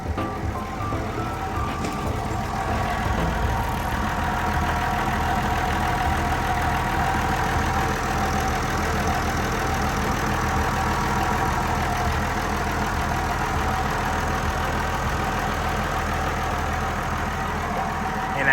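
The Isuzu diesel engine of a Hitachi LX130-7 wheel loader idles steadily at close range, a constant low rumble and clatter that continues unchanged the whole time with no voices.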